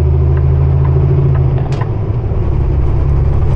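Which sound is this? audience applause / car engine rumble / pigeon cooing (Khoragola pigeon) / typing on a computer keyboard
car engine rumble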